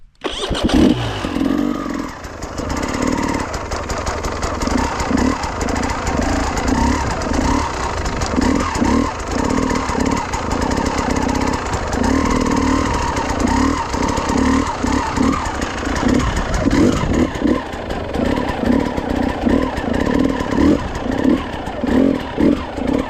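An enduro motorcycle rides tight full-lock circles, its engine burbling close by with rhythmic throttle blips and clutch-modulated surges pulsing steadily throughout, no talking over it.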